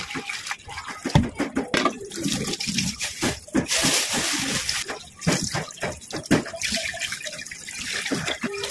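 Native chicken being washed by hand under a running tap, water splashing and gushing steadily in a broadband wash with irregular bursts as the pieces are handled, close and fairly loud, with brief voice fragments mixed in.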